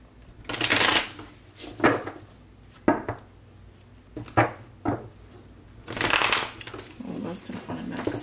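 Tarot cards being shuffled by hand, several bursts of riffling and sliding cards with pauses between them, heard close up with some talking.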